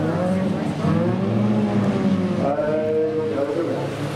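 A jalopy race car drives around the dirt track at Meremere, its engine droning steadily and fairly close for the whole stretch while a commentator talks over it.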